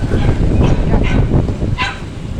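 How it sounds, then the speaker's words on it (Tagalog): A dog barks a few times nearby amid busy street noise at night, heard from a riding tricycle, with voices and rumbling traffic mixed in. "may aso"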